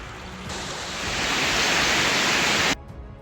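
A flooded stream at Hippalagaon in Bidar rushes after heavy rain, a steady broadband roar of churning water that swells louder midway and then cuts off abruptly near the end; no voices.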